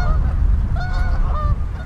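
Canada geese honk close by at the Scott Street Dam in Des Moines in freezing winter cold, a cluster of loud overlapping calls over a rumbling background of wind or rushing water.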